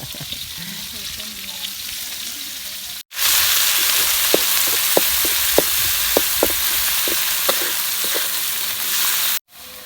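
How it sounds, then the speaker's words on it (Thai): Chili stir-fried with catfish in a pan makes a loud, dense sizzle that starts abruptly after a quieter stretch, with scattered clanks of a utensil against the pan, close up and without talk. "เอาพริกไปผัดแล้วก็เติมน้ำนิดๆนะยาย"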